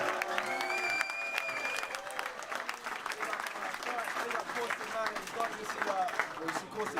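A crowd at a rap battle applauds the two MCs, with a continuous wash of clapping and some cheering, while a voice talks over the noise and tones ring through in the opening seconds.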